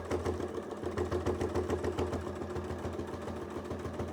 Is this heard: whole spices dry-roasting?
no